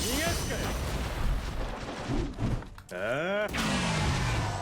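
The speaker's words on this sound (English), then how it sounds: "Let me test this soul bomb one more time" A soul bomb special attack in the mobile game Bleach Brave Souls bursts out as a dense, booming blast of effects with sweeping tonal whooshes and a rumbling roar, loud and continuous across several seconds.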